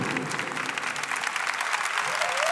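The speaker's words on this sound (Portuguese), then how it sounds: "Vamos aplaudir as famílias" Steady, full applause from a crowd at a priest's live show and CD launch, continuous throughout with no talking.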